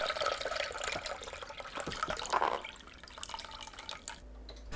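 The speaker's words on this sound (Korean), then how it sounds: "4일이 지나면 양념물만 냄비에 따라냅니다." Seasoning liquid drained off aged kimchi pickles and poured into a pot, a steady wet trickle with splashy drips, close and fairly quiet, fading near the end.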